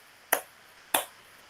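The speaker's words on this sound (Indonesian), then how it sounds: "Kita beri 2 tepuk untuk Kak Yunita dan Kak Egi" During an online teacher-training session, two crisp, quiet claps sound about half a second apart, each one sharp and clean against a near-silent background.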